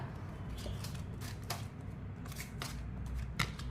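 Tarot cards are drawn and shuffled from a deck, giving soft, close papery rustles and flicks in a continuous run of light brushing strokes against a steady background hiss.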